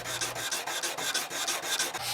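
Rhythmic rasping strokes of a hand file scraping a steel sword blade edge, about eight steady back-and-forth passes, close and clear with no talking.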